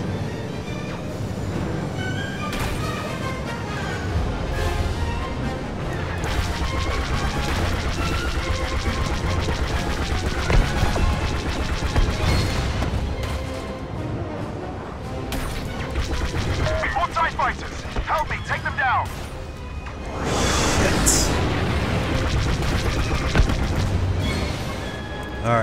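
Blaster fire and explosions from the Star Wars Battlefront 2 game build into a dense, continuous barrage with heavy booms and rapid shots, while voices talk over the battle.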